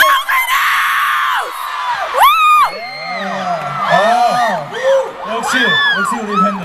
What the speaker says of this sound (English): On count of three, scream the name.